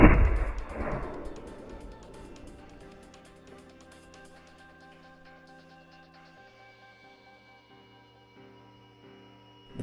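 A single sharp shot from an RPK firing a Chinese 7.62x39 API round into an armor plate, a loud blast at the start that decays into a long ringing tail of metallic tones.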